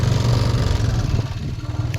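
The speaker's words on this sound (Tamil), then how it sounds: "ஒரு வண்டி வருது" A motor vehicle on a hill road in Kolli Hills, Namakkal, rumbles steadily and close by with a revving, clattering engine and no speech over it.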